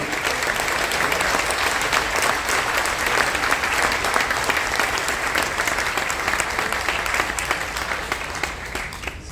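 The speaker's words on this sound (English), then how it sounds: "big round of applause for them" A large crowd aboard the Carnival Dream cruise ship applauds military veterans of Desert Storm and Enduring Freedom, with steady, dense clapping and a few cheers holding at a loud, even level for the whole stretch.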